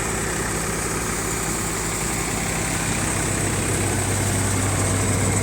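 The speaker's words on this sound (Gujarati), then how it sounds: "ટ્રેક્ટર ચાલે છે લગભગ 13ના રેસ ઉપર." An Indofarm tractor engine runs steadily at a constant idle, a loud, continuous low rumble and vibration with no letup.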